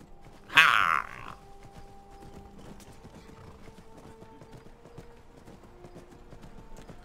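A horse in the video game Skyrim gives a short loud snort or whinny near the start, then its hooves keep up a faint, steady clip-clop under quiet game ambience.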